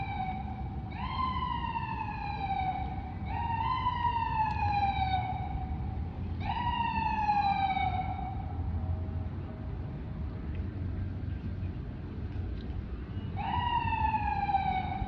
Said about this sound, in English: Just a moment, a siren.